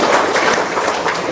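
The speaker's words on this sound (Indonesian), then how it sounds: "Tepuk tangan dong" Applause from an audience at a seminar, a short burst of dense, even clapping with no pauses.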